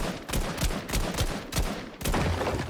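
A blue assault rifle in Fortnite fires at a player-made build, five loud rapid shots at an even pace, close and punchy with the impacts ringing out.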